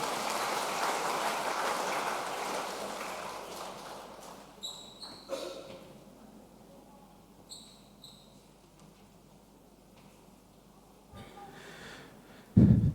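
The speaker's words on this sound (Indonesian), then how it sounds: "Kita beri tepuk tangan sekali lagi Bapak Ibu." A church congregation at a Sunday worship service claps together in a broad wash of applause that gradually fades away, leaving a quiet room with a few faint knocks and a brief thump at the end.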